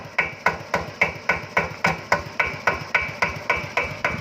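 A single-cylinder RT120 diesel engine chugs at a slow, even idle, loud and close, with heavy thumps repeating about four times a second.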